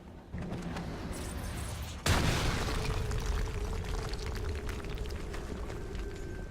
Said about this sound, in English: And then Price just throws a grenade in there.